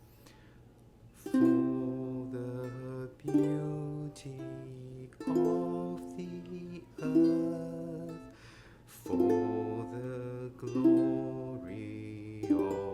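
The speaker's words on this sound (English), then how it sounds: "you can just do one strum for every 2 beats, and that would sound like this" A ukulele strums the hymn For the Beauty of the Earth at one strum every two beats, each chord ringing out beneath a singing voice.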